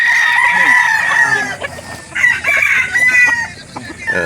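Chickens and roosters at a poultry market in Calauan, Laguna, Philippines crow and cluck loudly and close by in a dense, continuous chorus, with faint voices mixed into the background.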